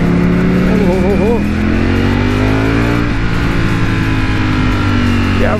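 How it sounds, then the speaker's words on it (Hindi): A Ducati Panigale V4 superbike rides through city traffic, its engine a loud, continuous close-up drone with shifting revs, while someone talks over it. "तो वैसे आई एम रियली एक्साइटेड कि बाइक चला रहा हूँ मैं V4 पहली बार"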